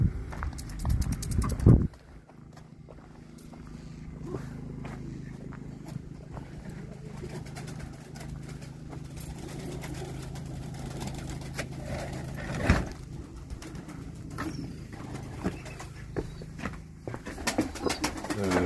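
Pigeons coo softly and continuously in a breeding loft, with a brief louder rustle near the start and scattered small knocks and shuffles throughout.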